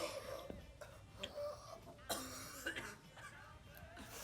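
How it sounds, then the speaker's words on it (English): An actor coughs and chokes through a film scene, giving harsh, irregular coughs and strained throaty gasps at close range. Some vocal sounds are mixed in. "Was that like, real coughing?"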